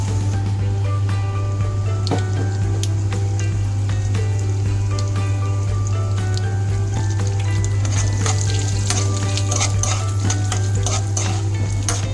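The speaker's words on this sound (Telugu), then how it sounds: "అందులో కొంచెం నెయ్యి వేసుకుని అందులో కొన్ని జీడిపప్పులు ఆవాలు మెంతులు జీలకర్ర శనగపప్పు మినపప్పు వేసి ఒకసారి వేయించుకోవాలి" Cashews, mustard seeds, fenugreek, cumin, chana dal and urad dal fry in ghee in a pan, giving a loud constant sizzle with close stirring scrapes over a low steady hum.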